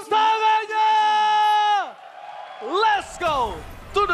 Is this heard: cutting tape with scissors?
no